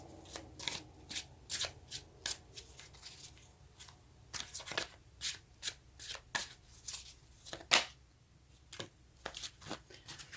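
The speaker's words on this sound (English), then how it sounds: "let's take a card for the Seven of Swords and see if that will say something to clarify it" Tarot cards being shuffled by hand, a run of crisp, close riffling bursts in irregular clusters with short pauses between them.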